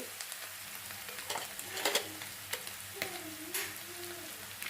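Spices frying in a kadhai for paneer pulao, a quiet continuous sizzle with scattered crackles and soft stirring scrapes close by, no speech.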